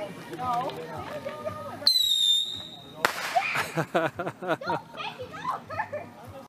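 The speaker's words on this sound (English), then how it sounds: "We're just shooting bottle rockets right now." A sharp whistling bottle rocket shriek is followed by a loud bang, then crackling pops; people chatter and laugh around the fireworks.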